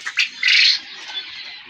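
Quail chirping and squawking at close range on a farm where the birds are raised, a few short calls at the start and then a denser burst of high, overlapping calls before the sound fades to faint background chatter.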